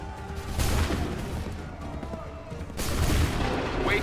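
A volley of musket gunfire rings out on an Assassin's Creed 3 battlefield, with loud booming blasts near the start and a second wave about three seconds in, over a continuous din of battle.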